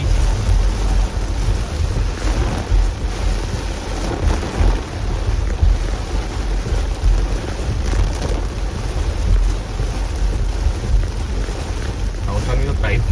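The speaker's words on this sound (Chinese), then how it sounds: "好像有台风。" Typhoon wind and hard rain battering a car while driving home, a dense continuous roar of rain and buffeting wind with low rumble throughout, no voices standing out.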